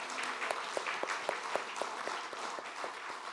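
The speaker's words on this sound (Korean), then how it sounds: "칭찬과 격려의 박수 부탁드립니다" An audience in a church claps in praise and encouragement for student representatives, sustained steady applause from a crowd filling the room with dense overlapping claps.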